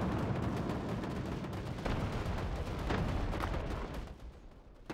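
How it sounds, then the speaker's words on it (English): Cannon artillery fire from a WWII-style real-time strategy game, a rapid, dense barrage of booming blasts and crackling shots rolling continuously before easing off near the end. "Cannons, fire!"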